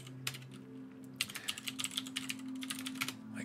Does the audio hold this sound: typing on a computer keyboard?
yes